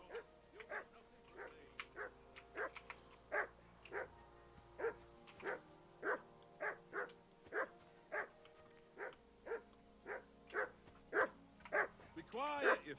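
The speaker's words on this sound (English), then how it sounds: "Be quiet, you flea-bitten hound." A dog in Kingdom Come Deliverance 2 barks over and over at a steady pace, close and loud, with about eighteen sharp barks. It ends in a higher whining yelp.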